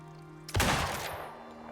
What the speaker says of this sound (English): we're going to shoot it dead center here